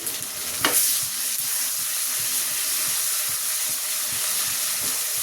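Onions with ginger-garlic paste fry in a pan for chole bhature. A soft scrape sounds near the start, then a steady, even sizzle and hiss continues throughout.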